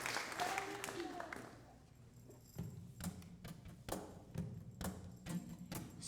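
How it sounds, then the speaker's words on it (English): A brief burst of audience clapping at an evening singing performance fades out within the first couple of seconds, giving way to scattered thumps and faint background voices. "Let's give them a round of applause"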